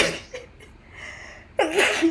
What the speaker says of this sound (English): before that, I need to sneeze.